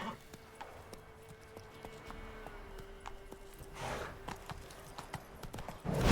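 A horse in The Witcher 3 clip-clops at a steady gallop, hooves thudding rhythmically under game ambience, with a rider's brief urging shout and a louder burst near the end.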